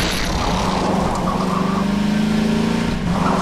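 Car engine droning loud and steady during a handbrake turn in Half-Life 2, with a sustained skidding tone running through it and a brief dip near the end.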